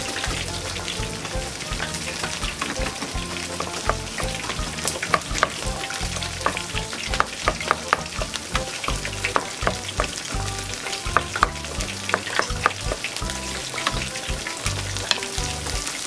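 Pork stir-fries in a pan for keto larb, a dense, steady sizzle and crackle with scraping stirs running throughout, close and loud, with no talk over it.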